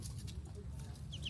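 Ducklings on a farm along the Mekong, cheeping in short high calls over a dense low rumble of background noise, with a few clearer peeps near the end.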